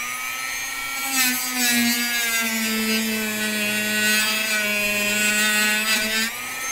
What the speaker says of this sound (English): Dremel warning.